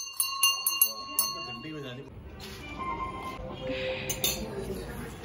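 Several quick bell rings chime at the start, followed by clinking metallic sounds and a person talking.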